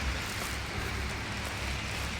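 Rain falling outdoors in the UK, a dense, even hiss of drops spread across a wide range, steady and unbroken throughout with a low rumbling undertone and no talk.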